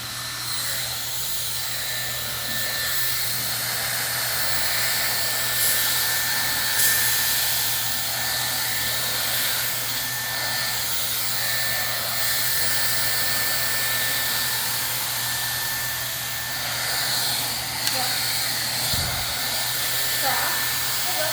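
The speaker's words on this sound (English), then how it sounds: "I'm gonna blow dry with my round brush." A hair dryer blows steadily on hand-tied hair extensions being styled with a round brush, a loud continuous whooshing hiss with a low hum that holds at even level throughout.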